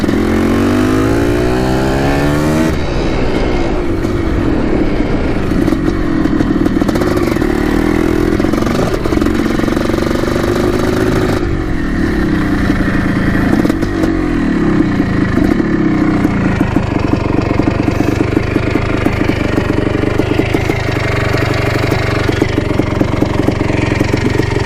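A Yamaha YZ 490 two-stroke dirt bike engine, freshly fixed and on new fuel, revs loudly and close through repeated rising and falling blips, then settles into a steady rough idle.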